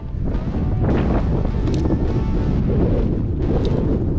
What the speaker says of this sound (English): There's so much wind out here all the time.